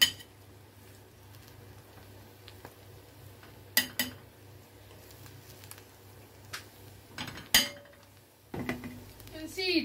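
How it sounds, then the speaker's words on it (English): Jollof rice being served from the pot onto a plate: sparse clinks and knocks of a spoon against cookware, with a few sharper clatters near the end over a quiet background. "I am going to dish my own portion now"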